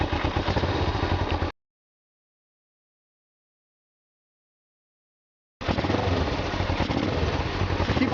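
A Suzuki GS500F motorcycle engine idles with a steady, close clattering throb during a carburetor sync, cutting out completely for about four seconds before resuming just as loud.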